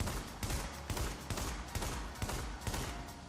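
Rapid shots from a weapon in The Division video game, about seven sharp cracks at a steady rhythm of roughly two per second, quiet and somewhat distant, with no talking.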